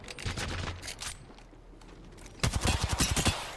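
Gunfire in a fast-paced shooter video game: bursts of rapid shots, a denser volley near the end, with no talking.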